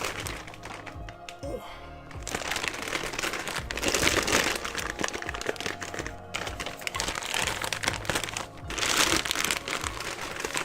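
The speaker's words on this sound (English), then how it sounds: "while you take the plastic bag off" Crinkling plastic bag being pulled off a heavy Ra's Pyramid Ship toy during an unboxing, with continuous rustling and crackling close to the microphone and a few soft knocks.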